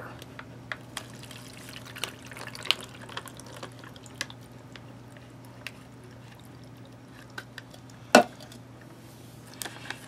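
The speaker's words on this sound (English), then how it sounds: "12 ounces of water pretty much fills this bag up" Water trickles and drips into a foil MRE ration drink pouch, a soft uneven pour of about 12 ounces punctuated by small clicks and one sharp crinkle of the pouch, heard alone and fairly close.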